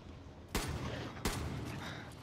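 Two loud, booming shotgun blasts in the video game Far Cry: New Dawn, spaced under a second apart, each with a sharp attack and a rolling tail over quiet background ambience.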